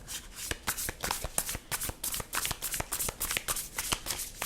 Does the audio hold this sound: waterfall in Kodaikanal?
no